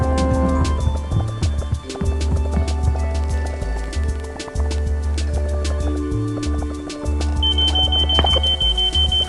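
Smoke alarm in the video game Sneaky Sasquatch, a high electronic tone that enters near the end over a busy, loud game soundtrack with steady percussive music and effects.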